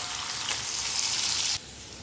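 Onions and green chillies with a little salt fry in hot oil, producing a close, steady crackling sizzle that swells briefly, then drops to a softer hiss near the end.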